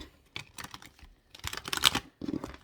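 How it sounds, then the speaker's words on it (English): A tarot card deck being shuffled, giving bursts of crisp papery riffling and rustling in several quick clusters with short pauses between, close and fairly quiet, with no speech. "I really have trouble shuffling this deck"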